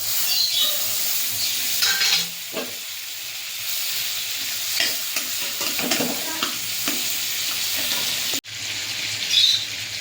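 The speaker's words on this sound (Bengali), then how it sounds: "বাটারটা এবার দিয়ে দেবো কড়াইতে।" Butter sizzling in a hot kadai while a spoon stirs it, steady frying hiss with scraping strokes and brief clinks, one sharp knock near the end, no voices.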